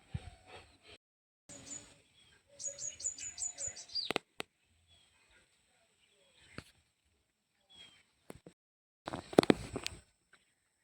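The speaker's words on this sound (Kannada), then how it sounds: "ಆ ಪಕ್ಷಿಗಳ ಸದ್ದು" Bright bird chirps in short rapid bursts, with scattered clicks and rustling across quiet stretches outdoors.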